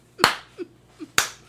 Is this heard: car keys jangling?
no